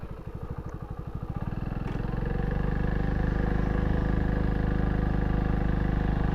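A TVS XL 100 Heavy Duty moped pulls away and rides off, its small single-cylinder engine puttering at first, then revving into a steady, loud, close drone with no talk.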